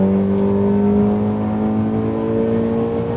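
An Audi S3 8P running around 2 bar of boost pulls hard under acceleration, its engine a loud, sustained droning roar with a steady whine, heard from inside the car without any talking.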